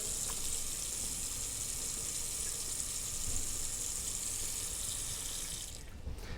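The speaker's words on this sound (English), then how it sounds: "I have gotten one of these Pyrexes instead, which I'm going to fill with water." Tap water runs steadily into a Pyrex dish in a sink, a constant bright splashing hiss that cuts off abruptly near the end.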